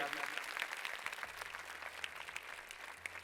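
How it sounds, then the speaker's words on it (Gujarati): An audience at a stage programme claps in a sustained round of applause, sounding somewhat distant, with voices murmuring underneath. "એકવાર જોરદાર તાળીઓના ગડગડાટથી આપણે સાહેબને પણ બિરદાવીએ."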